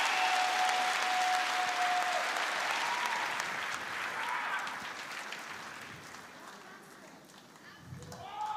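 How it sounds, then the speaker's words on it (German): Audience applause after a dive at a televised celebrity high-diving competition, broad crowd clapping that is full at the start, then gradually thins and softens with some voices near the end. "Er ist gesprungen, dafür kann man applaudieren."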